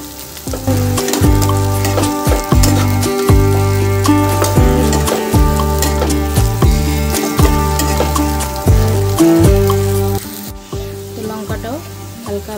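Onion and chopped green chillies sizzling and frying in a pan for paneer bhurji, loud and continuous, with repeated clattering stirs of a utensil against the pan.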